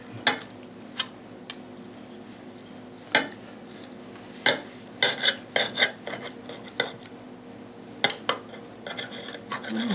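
A knife cutting grilled pork tenderloin on a board, with sharp clicks and scrapes at irregular intervals against a steady sizzling background, close by, no speech.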